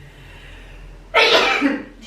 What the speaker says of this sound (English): Do you know that I always sneeze like this in the morning